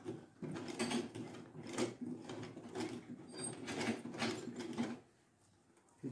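Sewing machine running through thick layers of fabric for an autogele headtie, a steady mechanical whirring and clatter in several bursts that slows and fades near the end.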